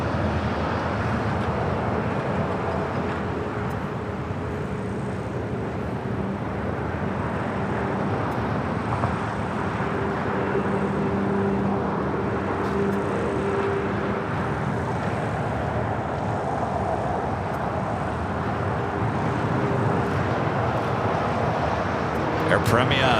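An Air Premia Boeing 787 Dreamliner takes off down runway 25 right at LAX, a continuous broad jet roar heard at a distance, steady throughout and partly masked by a person talking over it.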